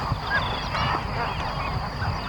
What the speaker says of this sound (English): Nalabana Bird Sanctuary receives more than 1 million birds belonging to 26 families.